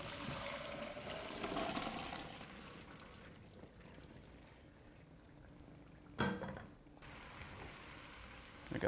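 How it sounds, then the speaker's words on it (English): Cooked pasta water for mac and cheese is poured off into a drain, a soft rushing pour that fades gradually, followed by a short clatter and faint kitchen handling sounds. "Okay, we're going to drain our pasta."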